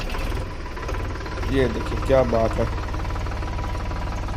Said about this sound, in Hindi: फ़िलहाल मैं ट्रैक्टर को आपको स्टार्ट करके दिखाता हूँ कि कैसी इसकी आवाज़, और स्टार्ट होने पे ये कैसी आवाज़ करता है।